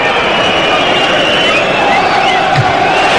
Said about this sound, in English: you'll hear the roar of appreciation from the home crowd